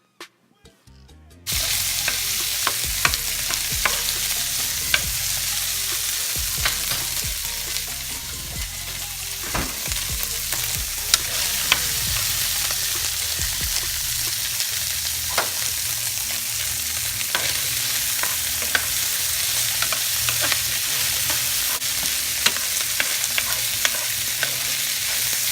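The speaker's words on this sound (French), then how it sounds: "je vais commencer à les brasser pour les cuire jusqu'à ce qu'ils deviennent tendres" Chicken and pollock fry in a pan, giving a steady loud sizzle throughout while a utensil stirs with light scraping clicks, close by and with no talking.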